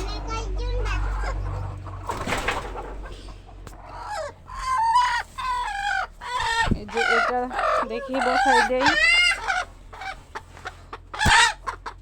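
Hens cluck repeatedly and close by as they are set on eggs to brood in a poultry shed, a rooster-like call rising among them, while a person talks over the birds.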